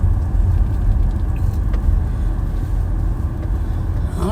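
Steady low rumble of road noise inside a car driving slowly around looking for a parking place, a continuous engine and tyre hum with no talking.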